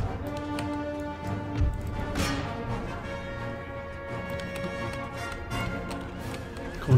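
Light horse cavalry in the Empire Total War video game, a dense mix of hoofbeats with horse sounds and battle ambience, continuous and moderately loud with no talking.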